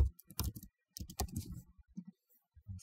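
Clattering keystrokes on a computer keyboard while entering a domain server name during a NAS setup, coming in quick irregular bursts with short pauses, close and clear with no talking.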